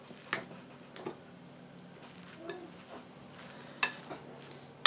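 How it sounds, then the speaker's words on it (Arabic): Cooked rice being stirred with mayonnaise for a rice salad, soft wet squishing with occasional clinks of a spoon against the bowl, close and quiet, with no talking. "صافي وغنخلطوا كل شيء مع بعضه."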